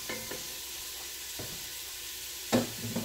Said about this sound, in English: I'm sauteing the onions and the garlic